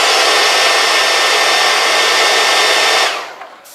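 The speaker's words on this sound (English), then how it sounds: "So what you might want to do is hit it with a hair dryer." A hair dryer heating paint on a custom statue, blowing loudly and steadily, a constant airy whir that cuts off near the end, leaving quiet.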